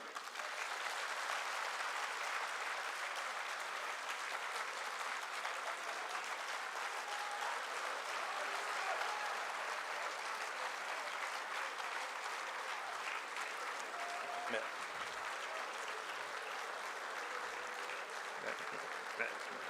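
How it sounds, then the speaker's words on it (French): A political council audience applauds the President with sustained, dense clapping from a large crowd, steady for about twenty seconds. "je demande au Conseil politique de vous acclamer"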